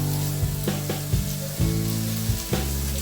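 Masala fries in oil for a village-style dry chicken dish, a close continuous sizzle with soft clanks and scrapes from stirring at intervals.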